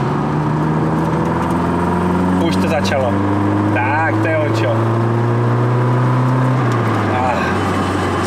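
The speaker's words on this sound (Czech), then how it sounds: "když si držíš trošičku plyn, tak to i tak lehce, decentně prdí do výfuku" A Nissan PS13 idles with a steady low exhaust drone, light throttle bringing faint irregular pops and crackles from the exhaust while someone talks over it nearby.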